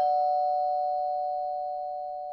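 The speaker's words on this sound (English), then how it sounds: "as the doorbell rang." A steady electronic doorbell tone holds for a couple of seconds, a single sustained chime that slowly fades, with no voices.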